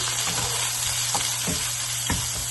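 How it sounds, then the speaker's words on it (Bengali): Chopped onion, garlic and green chilli frying in hot oil, a steady close sizzle with a few soft stirring knocks, no voices. "এখানে অ্যাড করছি পেঁয়াজ কুচি, রসুন কুচি আর কাঁচামরিচ। অল্প একটু লবণ দিয়ে দিচ্ছি আপাতত, খুব বেশি না। এখন নাড়া দেবো।"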